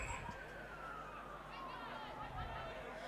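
Police car siren passing beside an outdoor rugby union match, a faint wailing tone sliding slowly downward for about three seconds beneath crowd noise and steady background chatter.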